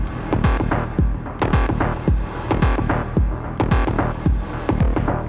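Repeated thumping kicks with a washy reverb tail pumping against a sidechain in Ableton, swelling between each hit, giving a rhythmic pulse about twice per second, loud and upfront.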